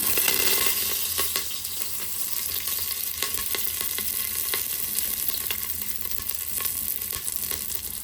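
Garlic and curry leaves frying in hot oil with a steady, dense sizzle and crackle, with occasional sharp pops and spatters throughout, close and continuous without any voices, while making dal khichdi.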